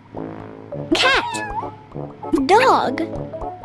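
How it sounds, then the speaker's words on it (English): A cartoon cat meows twice in the Sago Mini School video game, two bright, close, rising-and-falling calls with a short gap between them over a soft musical bed. "Cat."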